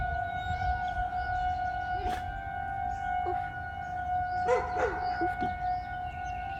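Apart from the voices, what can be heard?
tornado warning siren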